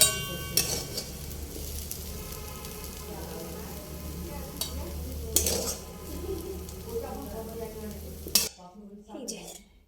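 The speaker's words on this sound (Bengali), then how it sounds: "ব্রকলি পেঁয়াজ কলি ভাজা বসিয়েছি" Broccoli and onion stalks fry in a pan with a loud, steady sizzle, stirred with occasional clinks of a utensil against the pan, then cut off abruptly near the end.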